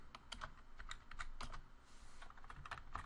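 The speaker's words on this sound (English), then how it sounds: "So now, as you can see, we're actually typing" Fast, uneven clicking of keys on a computer keyboard during coding, in quick bursts of light taps, close and fairly quiet, no voices.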